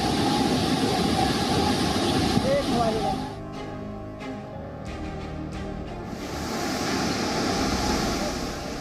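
Floodwater in a monsoon-swollen nala in Mender, Jammu rushes in a loud, continuous roar, easing briefly midway before swelling again, with a voice speaking over it.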